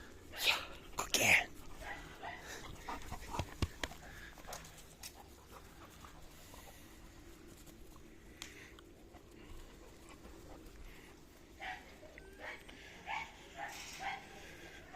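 A protection-trained dog plays tug with a ball on a tie, letting out a few sharp barks and yips early on, then huffing and panting through scuffling handling noise, with a person talking faintly now and then.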